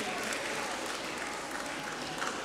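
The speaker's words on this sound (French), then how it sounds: "que vous pouvez applaudir" Dense, sustained audience applause fills a town hall, many hands clapping steadily and evenly at close range with no pauses.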